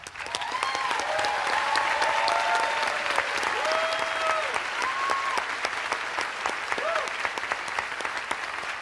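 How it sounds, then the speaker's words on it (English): Audience applause fills a college commencement ceremony at Reed College for the graduating class of 2006, a steady sustained wash of clapping with whistling tones and scattered voices riding over it throughout. "I now invite your applause for the class of 2006."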